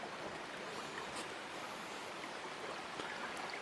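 A shallow brook about a dozen feet wide, inches to three feet deep, gives a steady, soft rushing babble nearby. It stays even and faint throughout, with no voices.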